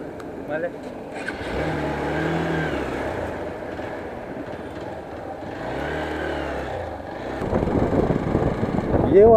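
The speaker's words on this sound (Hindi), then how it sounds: "बाइक घुरा लेते हैं।" Hero Xpulse 200 motorcycle engine revving close by in two rising and falling surges, then a rougher burst near the end, with voices talking over it throughout.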